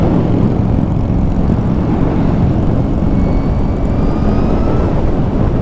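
A Harley-Davidson LiveWire electric motorcycle accelerates hard in sport mode, a steady loud broadband rush of wind and road roar with a faint rising electric whine across the run, and no voices.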